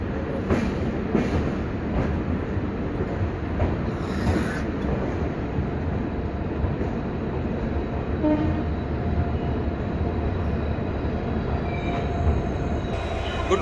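The Bengaluru Rajdhani Express rolls into an Indian railway station with a constant heavy rumble of wheels on track, occasional metallic squeals and a brief horn-like tone, loud and sustained throughout.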